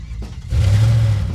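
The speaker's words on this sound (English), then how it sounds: "McCoy and Lucy rip down the roads in the McCoy car at breakneck speed." Audio-drama car effect of a vehicle racing down the road at breakneck speed: after a short faint lead-in, the engine surges into a loud, steady revving roar, brief and with no talk.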